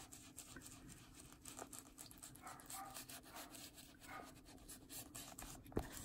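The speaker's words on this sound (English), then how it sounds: "the neighbor's dog is going nuts over something" A neighbor's dog barks in the distance, faint, irregular and partly masked by nearby scratching and rustling from a drawing session with ink, water and oxide powder; there is no talk.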